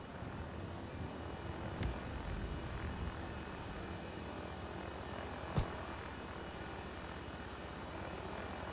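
In GTA 5, a coast guard search-and-rescue helicopter's engines start up with a quiet, steady turbine whine and broad rushing rumble that holds constant throughout, broken by two brief faint clicks.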